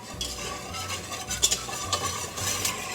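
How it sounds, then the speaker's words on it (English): Melted butter and flour sizzle gently in a pan while a utensil stirs and scrapes through them in an uneven rhythm, close and clear, with no talking. "So just keep stirring."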